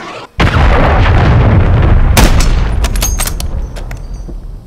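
Cruise missile strike explosions in Call of Duty Modern Warfare 3 on the Derail map: a sudden loud blast starting a sustained heavy rumble, with further sharp bursts layered over the booming roar as it slowly fades.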